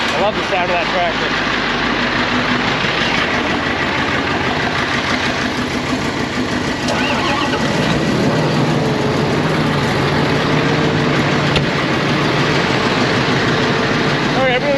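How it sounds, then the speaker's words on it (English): Farm tractor engine idling during a morning warm-up at corn harvest, a steady loud low rumble running throughout at close range, with someone talking over it. "I love the sound of that tractor."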